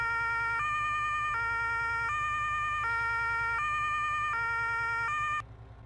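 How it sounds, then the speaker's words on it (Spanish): A fire truck siren in Farming Simulator 22 wails in a loud two-tone hi-lo pattern, alternating about every three-quarters of a second over a low engine rumble, then stops abruptly near the end. "¿Cómo se pone la sirena?"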